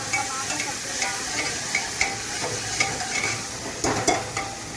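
Potato curry being tempered in a pan, with tomatoes frying: a continuous sizzle, interrupted by regular light scrapes and taps of a stirring spoon, close up and without talk.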